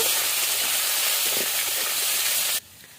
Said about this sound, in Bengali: আলুগুলোকে ভালো করে একটুখানি ভেজে নেব